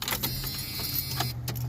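A 1986 Jeep Comanche engine runs with a steady low rumble, overlaid by close clicks and rattling bursts, loud and nearby with no talking.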